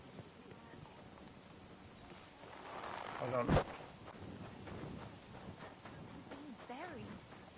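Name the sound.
horse hooves clip-clop in the video game Kingdom Come Deliverance 2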